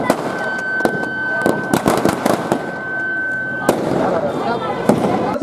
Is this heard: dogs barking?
no